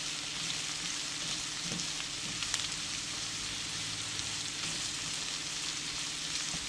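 Chopped garlic and bay leaves fry in hot oil for a dried fish dish, giving a steady close sizzle with faint scrapes of stirring throughout.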